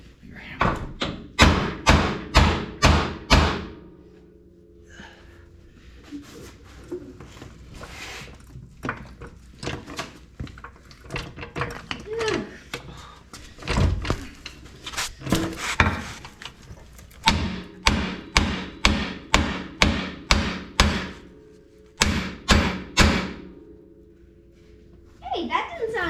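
A hammer drives a ball joint into the front end of a C10 truck: rapid bursts of loud metallic blows with pauses between them, and someone talks in the gaps.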